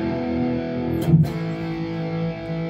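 Electric guitar, a Reverend Double Agent W, with a distorted classic rock tone: a sustained overdriven chord ringing steadily and close, with a quick pick scrape or slide partway through, no voices.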